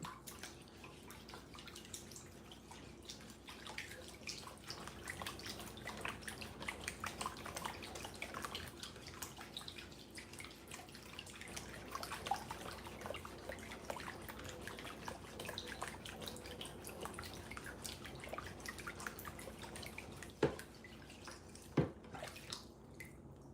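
Water dripping and trickling while a whetstone is being flattened, a steady faint wet patter with a few sharper drip sounds near the end.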